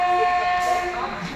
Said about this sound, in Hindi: ये आ रही है सामने ट्रेन अपनी